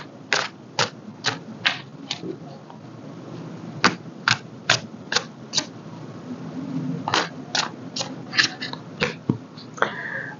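A tarot deck being shuffled by hand, giving close, crisp card snaps in quick clusters of three to five, separated by short pauses and repeating steadily without any voices.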